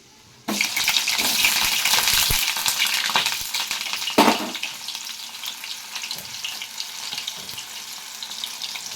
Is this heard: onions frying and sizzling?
yes